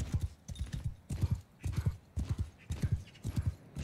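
Horse hooves in Mount & Blade II: Bannerlord pound out a steady galloping rhythm in repeated quick bursts, close and moderately loud, with no voices over them.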